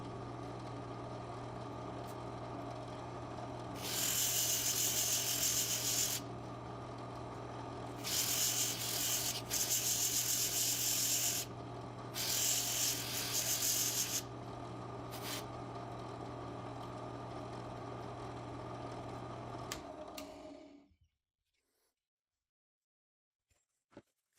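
A wooden knife handle, walnut with a sealer coat, sanded by hand in three separate bursts of scratchy rubbing over a constant low mechanical hum, close by, before everything falls silent.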